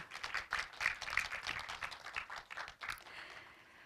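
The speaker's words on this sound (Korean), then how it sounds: "이혜미 기자님께 다시 한번 큰 박수 부탁드리겠습니다" An audience applauds a journalist after her lecture and Q&A at an online journalism awards event, a dense patter of clapping from many hands that fades out toward the end.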